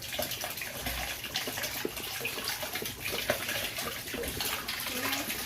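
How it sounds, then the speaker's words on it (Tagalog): Water poured slowly from a net or container into a tub of clean water for catfish at a mountain fishpond, a steady running trickle and splash, close and continuous throughout. "Okay, so kailangan dahan-dahanin natin isalin dito sa may linis na tubig"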